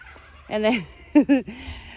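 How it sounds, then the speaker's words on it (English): Turkeys in a garden in the Pacific Northwest, a loud nearby gobble followed by two quick sharp gobbling calls, with a quiet background between them. "I don't know if you heard the turkeys."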